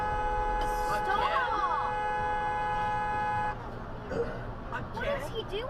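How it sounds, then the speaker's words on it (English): A car horn blares at a police car in a long steady honk lasting a few seconds, loud and close, then cuts off, leaving road noise with voices talking. "Got honked at."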